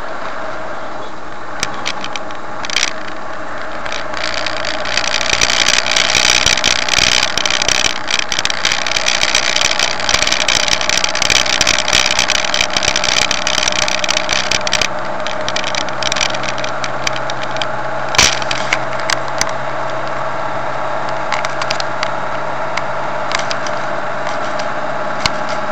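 A car engine hums steadily while driving uphill on the N340 coastal road from Torrox toward Almería, a continuous mid-pitched drone with road and wind noise and occasional small knocks.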